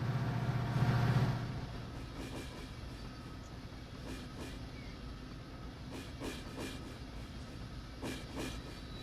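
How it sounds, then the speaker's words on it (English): Freight train rumbling along steadily in the Run 8 train simulator on the Pitts Line, a continuous rolling roar with a louder swell near the start and faint repeated clicks of wheels over rail joints. "That's the hell of a train for a single engine."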